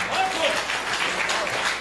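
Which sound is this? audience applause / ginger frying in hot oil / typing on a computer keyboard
audience applause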